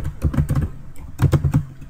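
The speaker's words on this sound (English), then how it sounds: "Once I'm finished, I'm typing them all in." Someone types rapidly on a computer keyboard while scripting blockers and perk machines for a custom zombies map. Two quick bursts of close, crisp key clicks are separated by a short pause, with no speech.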